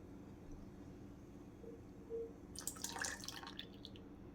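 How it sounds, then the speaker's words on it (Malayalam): Coconut milk poured into golden cucumber juice: quiet room hum, then a brief burst of splashing liquid trickling in near the end, faint and close. "നമുക്കിനി തേങ്ങാപ്പാൽ ഇതിലേക്ക് ഒഴിച്ചു കൊടുക്കാം."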